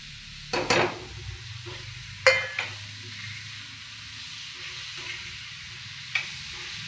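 Quiet steady sizzle of tomato frying in a pan for a French bean stir-fry, with a few sharp clinks and stirring scrapes near the start and again later.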